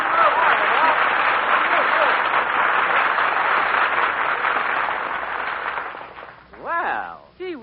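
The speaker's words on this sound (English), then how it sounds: "Gee, was all that applause for me?" A studio audience at a radio comedy broadcast breaks into sustained applause for Dennis, loud and even for about six seconds before tapering off, followed by a brief spoken voice at the end.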